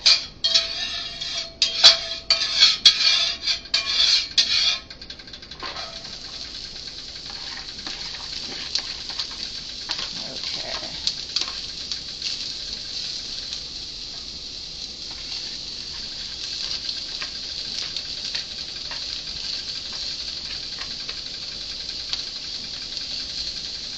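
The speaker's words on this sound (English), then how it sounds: "so we're going to saute that for about 5 minutes" Onions sautéing in a pan over medium-high heat for tacos, starting with a few seconds of louder clattering and stirring, then settling into a steady, gentle sizzle that continues alone.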